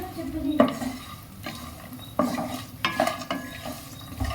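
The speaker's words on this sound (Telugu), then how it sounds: "వీటితో పాటు జీడిపప్పు కూడా వేసుకొని ఫ్రై చేసుకోవాలి" Cashew nuts frying in a pan, stirred with a utensil that scrapes and clinks against the metal over a low sizzle, close and moderately loud.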